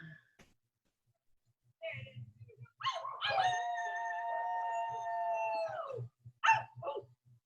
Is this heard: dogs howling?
yes